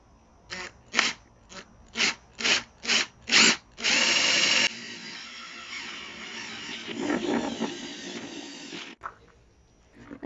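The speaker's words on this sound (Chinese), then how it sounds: "还是建议大家使用这个电钻" An electric drill whirs in about seven short bursts, then runs in one longer push before grinding through a plastic bucket with rougher, uneven noise.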